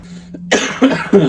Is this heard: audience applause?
no